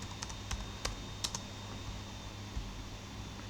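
Keys clack on a computer keyboard as a short command is typed, with a handful of crisp, close taps followed by quiet.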